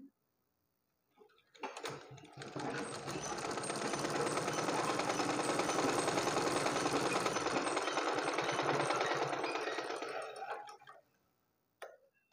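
A sewing machine runs steadily for about eight seconds, stitching a blouse with a fast, even mechanical whir that starts and stops cleanly, close and alone.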